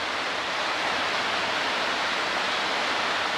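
Oat-coated chicken leg pieces fry in hot oil outdoors on a riverbank, a dense steady sizzle heard close and unbroken, with no speech.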